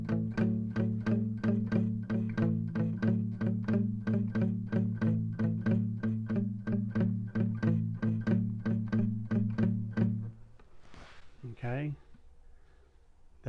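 Acoustic-style guitar playing a steady three-finger 12-bar blues shuffle riff, evenly repeating low chugging notes with a bouncy rhythm, fairly quiet and alone before a brief noise near the end.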